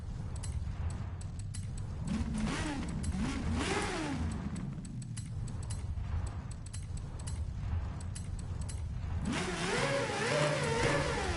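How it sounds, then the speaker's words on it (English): A car engine in Forza Horizon 5 revs repeatedly, rising and falling in pitch as gears change, moderately loud and continuous, with a final sharp climb in revs near the end. "That is the best engine I've heard in this game."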